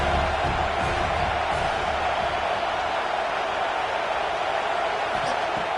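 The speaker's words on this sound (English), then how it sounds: "Tremendous crowd atmosphere now in the final minute of play." A football stadium crowd at a Penn State game roars in the final minute of play, a dense, sustained wall of cheering and noise that holds steady throughout.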